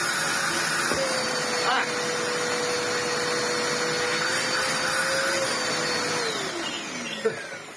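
A cheap Ewbank Motion EW3001 vacuum cleaner whines steadily while running with a badly clogged hose, its pitch holding for several seconds, then sliding down near the end, with a brief clunk.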